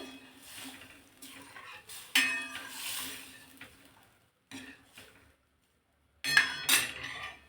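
A spoon scrapes and clinks against a cooking pot while shernya dal is mixed, producing intermittent metallic stirring bursts with quiet pauses between, close and fairly soft.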